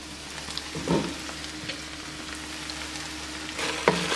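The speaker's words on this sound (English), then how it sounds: "So I'll move my beef around. It's browning up beautifully." Beef browns in a pan with a soft, steady sizzle, and brief scraping bursts are heard as it is moved around. Nearby and fairly quiet, with no voices.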